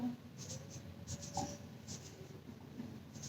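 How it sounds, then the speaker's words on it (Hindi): Marker or chalk strokes on a teaching board, a run of short scratchy swipes at an uneven pace, fairly faint over a low room hum with no speech. "सीधे सीधे लिखती हूं"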